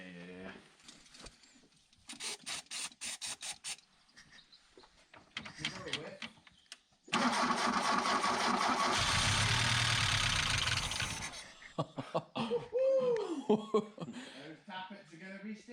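Volkswagen Golf MK2 Syncro engine, fed brake cleaner on a weak battery, cranks and catches into a loud steady run for about four seconds, then dies away amid talk.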